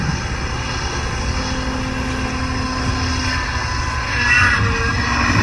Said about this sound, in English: this is a video of the helicopter after the learning algorithm has finished training